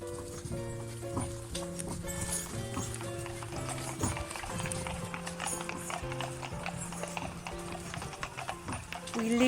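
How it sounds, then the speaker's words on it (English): Horses' hooves clip-clop at a walking pace, mixed with a busy, layered background of other sounds. "We lead the horses up to a field of wheat"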